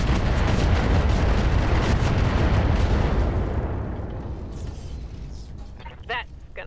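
Mech weapons unloading all at once in the video game Roguetech, a dense roaring barrage of blasts and booms that fades out over a few seconds, followed by faint mechanical whirs.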